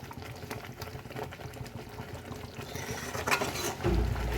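Egg korma curry bubbles in a pot at home, giving a steady low simmering burble with faint clinks of a pot and utensils near the end.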